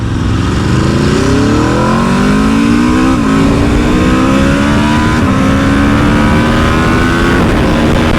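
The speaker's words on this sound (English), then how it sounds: "Monstrous power and absolutely seamless and smooth, effortless gear change, upshift." An Aprilia RSV4 Factory sport bike pulls hard under full throttle, its loud engine note climbing repeatedly and dropping briefly at each quick seamless upshift, close and continuous throughout.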